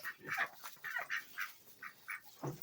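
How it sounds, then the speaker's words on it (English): Ducks in a barn call in a series of short nasal quacks, about ten in quick succession with brief gaps between them, moderately close and fairly quiet, with no talk over them. "here are the ducks again"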